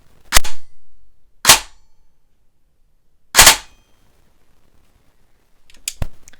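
Airsoft gun with an air-seal problem firing on semi-auto, four sharp, loud, isolated shots spaced irregularly, with silence between them and a faint mechanical whir before the last shot.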